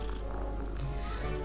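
A cat purrs softly and continuously in Hogwarts Legacy, a low steady rumble running without a break for the whole short moment.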